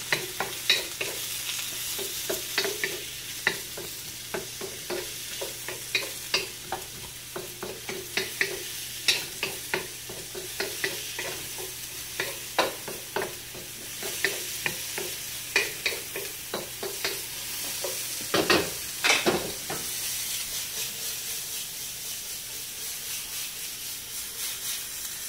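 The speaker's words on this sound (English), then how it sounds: "stir fry that in until it starts getting nice and tender" Cabbage and cauliflower rice stir-frying in a pan, a continuous sizzle broken by repeated scraping strokes of a spatula in an uneven rhythm, close and alone without voices.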